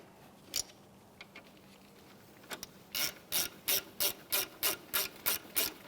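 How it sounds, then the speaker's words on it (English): A ratchet fitted with a 14mm socket tightens brake caliper bolts on a 2011-2016 Hyundai Elantra, a few scattered clicks giving way to a steady run of about ten loud, evenly spaced ratcheting bursts, close and with no talking. "And with our 14mm socket, we'll tighten these down."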